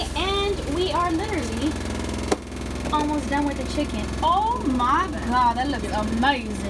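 A washing machine runs in the background of a home kitchen as a steady low mechanical hum, continuous under a woman's close, chatty talk while chicken is cooked.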